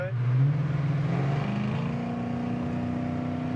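Restored 1969 Chevy Camaro accelerating hard, the exhaust note climbing sharply, then shifting to a steady, rising drone, loud and close.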